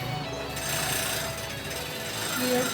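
A taping sewing machine stitches a T-shirt with a rapid, steady mechanical chatter of needle strokes, close and continuous, with slight swells in speed.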